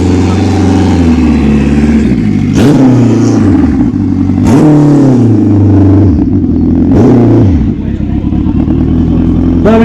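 A turbocharged GSX motorcycle at a Scottish bike show revs hard over a loud, rough idle, with three or four big throttle sweeps rising and falling, close and very loud.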